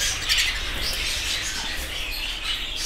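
Home-bred budgerigars chatter and squawk in a continuous busy flock chorus of fairly faint, high-pitched chirps with no talking.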